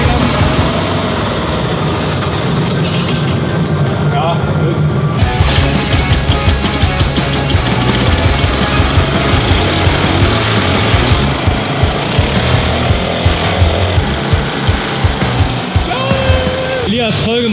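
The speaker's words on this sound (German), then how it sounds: "der Motor hier ist jetzt schon 130 Jahre alt, deswegen schauen wir mal, ob der noch läuft" A very old go-kart engine, fitted to a frame converted to carry trash bins, runs loudly and roughly with a steady chugging rumble for the whole stretch inside a tent.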